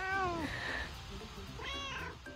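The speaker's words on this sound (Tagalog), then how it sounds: "Yung pusa natin, palabasin natin." A cat meows twice inside a video game, a rising harmonic cry followed after a short pause by a second, clearer meow, heard over faint game background noise.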